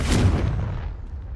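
A Confringo spell explosion in the video game Hogwarts Legacy: a single loud, deep blast that booms and then fades quickly, heard on its own.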